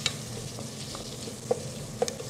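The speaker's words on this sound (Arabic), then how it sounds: "رح اقيم وحرك كمان، خليها لحتى تتقلى عندي تقلايه خفيفه" Vegetables lightly frying in a pan give a soft, steady sizzle, with a few quiet scrapes and clinks from a spoon stirring them, close and low in level.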